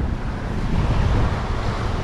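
Rough sea waves and strong wind at a Manila Bay beach make a steady, loud, close roar of surf and wind buffeting the microphone, with no voices.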